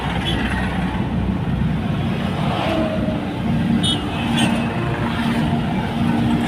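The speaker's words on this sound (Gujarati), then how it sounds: "વચ્ચે વચ્ચે ગાડીઓ હેડી આવે છે." Cars and other vehicles roll past on a busy city road near shops, a steady drone of engines and tyre noise with occasional brief horn-like tones, moderately close and continuous.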